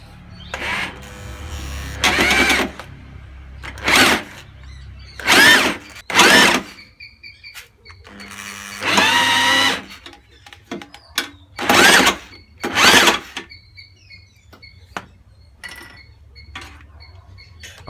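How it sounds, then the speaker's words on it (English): A hammer drill whirs in short, loud bursts, stopping and starting about a dozen times with quiet gaps between the runs, driving a car jack to lift a car. "you can use the hammer drill to lift the car effortlessly"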